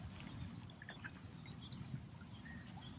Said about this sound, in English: I can fall asleep easily listening to the sounds of the water.